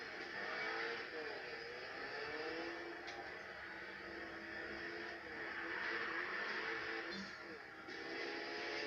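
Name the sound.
Koenigsegg Regera race car engine in Need for Speed video game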